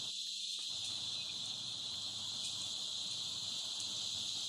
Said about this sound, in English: So it's a heavy cicada.